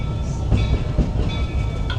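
Walt Disney World Railroad steam train rolling into Main Street station at Magic Kingdom, a loud, close, steady rumble of wheels on track with faint rhythmic clacks and no talk.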